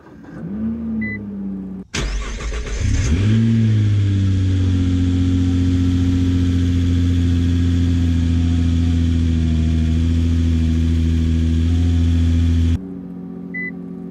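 A Nissan GT-R fitted with a Cobb 3-inch big intake cranks and fires into its first start on a new map, settling into a loud, steady idle alone with a brief starter whir before it catches.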